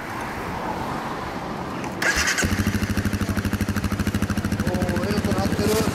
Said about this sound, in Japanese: ダブルアールズ CBR エンジン音聞かせてもらえる？